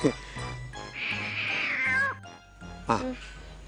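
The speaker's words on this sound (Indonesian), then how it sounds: "Suara kucing kan?" A long, wavering meow rises over low background noise, followed by a shorter cry a moment later; voices murmur faintly around it.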